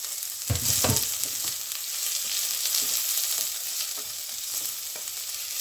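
Chopped onion frying with garlic in a pan, a dense steady sizzle with a burst of louder crackling at first as the onion goes in, then continuous frying with light stirring; no voices.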